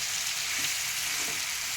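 Potatoes for a Kannada-style potato palya fry in a pan with a steady, close sizzle and crackle that holds evenly throughout, with no voices.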